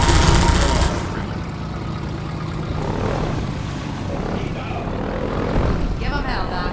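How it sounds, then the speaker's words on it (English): A Combine helicopter in Half-Life 2 drones with a steady loud rotor and engine roar throughout, while a voice speaks over it. "Take that chopper down"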